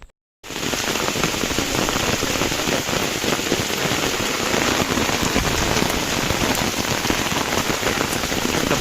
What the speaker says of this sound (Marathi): पाऊस एकदम जोराचा आलेला आहे